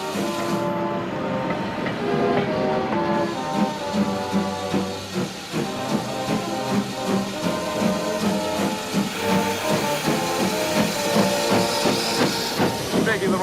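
A steam train pulling away with rhythmic chuffing and clanking wheels, a horn sounding and a voice speaking over the noise, loud and close.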